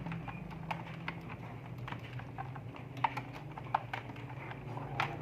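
Keys on a computer keyboard clatter in an irregular stream of quick taps during a home-row typing speed test, moderately quiet and close, with no talking.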